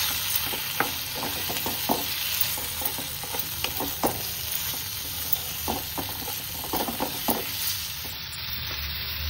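Ingredients for chutney frying and being stirred in a pan make a constant sizzle broken by scattered scraping and knocking strokes of a spoon, close and moderately loud, with no speech.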